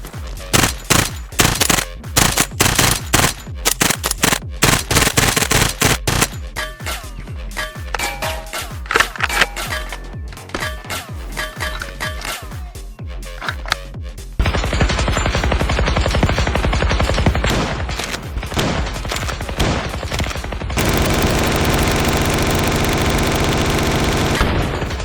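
Airsoft guns rattle off in rapid bursts alongside the heavier thumps of a 40mm airsoft grenade launcher, near and loud, sliding into a dense, continuous roar of sustained fire.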